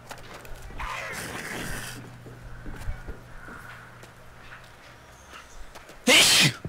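A single sharp, loud sneeze bursts out near the end, close and abrupt, following quieter game noises and scattered movement sounds.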